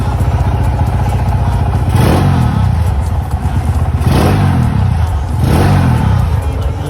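A Honda Sonic motorcycle engine, close and loud, holds a steady idle and then surges in three sharp revs, roughly two seconds apart, each dropping back to a rumbling idle.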